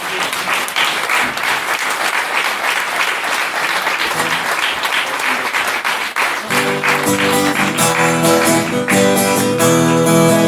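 Applause from an audience at a choir concert in Bas Mauco rolls on as dense, sustained clapping, and then music starts beneath it partway through.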